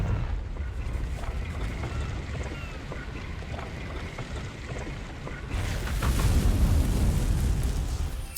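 A Confringo fire spell blasting in Hogwarts Legacy, heard as a broad roaring burst that rises sharply partway through over a rumbling, noisy game background, with no talk.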